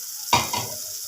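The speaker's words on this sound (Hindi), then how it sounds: "इसको अच्छी तरह हम भून लेते हैं।" Softened tomato masala fries in a pan for fish katakat. A sudden spoon stir sets off a brief burst of hissing sizzle that quickly fades back to a quiet background hiss, close up and without speech.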